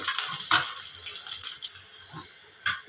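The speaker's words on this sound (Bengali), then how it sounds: "এখন রসুনগুলো ভেজে নিই।" Steady bright sizzling of garlic frying in hot oil, close up, with a few soft stirring knocks and crackles over the continuous hiss.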